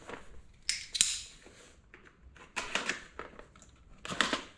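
Blade slicing through a cardboard box for a motorcycle tuner, heard as several short bursts of scratchy cutting and tearing separated by pauses, close and fairly quiet, with no talking.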